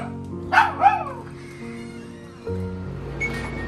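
A dog gives two quick excited barks and yips close by while greeting someone in the morning, then a softer whine follows over a faint background hum.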